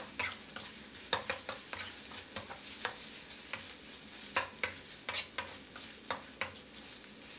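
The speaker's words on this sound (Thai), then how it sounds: "ผัดให้กุ้งเราสุกเลยนะครับ" Fresh shrimp stir-fried in a wok for tom yum fried rice, a sizzling background broken by repeated sharp scrapes and clinks of the spatula at an uneven rhythm, close and fairly quiet, with no talking.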